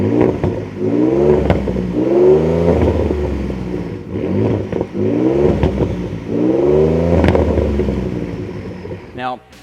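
A 2011–2014 Ford F150 with a 5.0L or 3.5L EcoBoost engine and a Corsa 2.5-inch resonator delete on a sport exhaust revs loudly in four repeated surges, deep and throaty, with short pauses between them.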